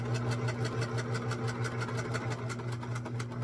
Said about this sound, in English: we're going to back stitch so we don't rip our stitches out when our hand goes in